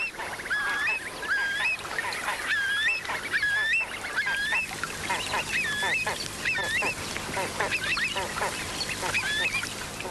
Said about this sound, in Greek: Μεγάλα κοπάδια πουλιών ετοιμάζονται για το ταξίδι της μετανάστευσης